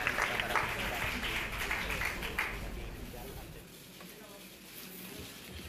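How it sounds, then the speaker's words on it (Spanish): Loud, dense applause fills a hall at La Moneda for the Chilean president during a 2019 cabinet change, strongest in the first few seconds then thinning to a softer, steadier patter. "el aplauso fuerte tiene que ver con que le están tratando de dar una señal de apoyo al presidente"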